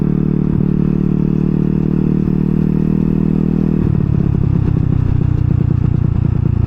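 A Honda Ruckus scooter engine labours and bogs down under load, a loud, close, steady low drone that shifts into a rougher, uneven chugging partway through.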